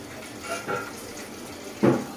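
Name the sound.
water running while washing meat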